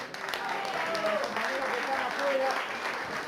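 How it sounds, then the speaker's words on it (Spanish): Delegates at a national bankers' union congress applaud the national secretariat, a steady roomful of clapping with voices mixed in. "Aplauso para los compañeros del Secretariado Nacional"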